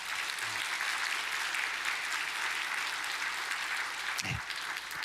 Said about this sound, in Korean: 인사하실 때 여러분 격려의 박수를 보내주시기 바랍니다.